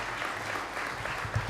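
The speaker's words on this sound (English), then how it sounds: "You don't have to applaud." Audience applause in a school chapel, a crowd clapping steadily at moderate distance with a few louder claps near the end.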